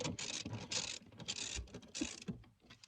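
A wrench snugging down bolts on Toyota Tundra truck parts, heard as short bursts of close, quiet ratcheting clicks separated by brief pauses.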